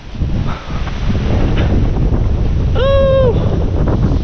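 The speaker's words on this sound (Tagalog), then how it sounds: "Hangin." Strong wind blasts straight into the microphone in a continuous loud rumble over surf, with a brief wavering tonal whine cutting through midway.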